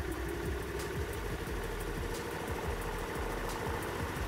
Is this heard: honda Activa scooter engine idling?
yes